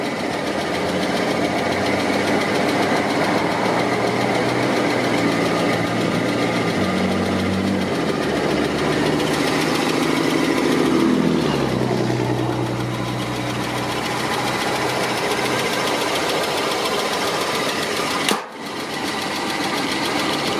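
A 1995 GMC 2500 van engine idles roughly and loudly up close, a steady uneven rumble with a slight dip in pitch midway and a brief click near the end.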